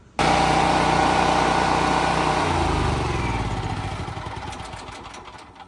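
A portable generator engine starts up abruptly and runs with a loud, steady buzzing drone, shifting slightly in pitch midway and then gradually easing down, with no talking over it.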